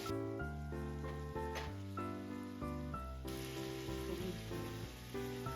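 Prepared spice paste hits hot oil in a pan of Bengali radish and prawn curry, giving a steady, dense sizzle and crackle that runs loud and continuous from start to finish.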